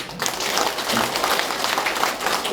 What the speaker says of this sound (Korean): 우리 조창걸 후보에게 힘찬 격려 응원과 박수를 보내주시면 감사하겠습니다